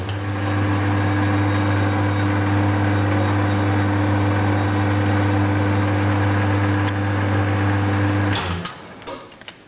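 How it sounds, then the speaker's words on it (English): Metal lathe running with an iron well pump casting held in the chuck, a steady loud motor hum with strong low tonal drone that continues evenly, then cuts off abruptly near the end as the machine spins down. "Now I'll switch the lathe on and you'll see it running out."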